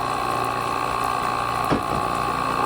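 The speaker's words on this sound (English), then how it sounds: "Add a little more water until I see more." Water poured from a small pitcher, a steady bubbling flow with one brief splash partway through, close and alone.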